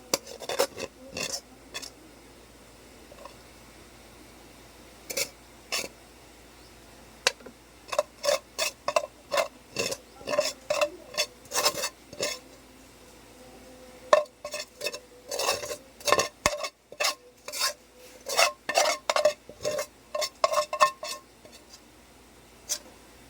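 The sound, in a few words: ladle scraping fried rice from pan onto plate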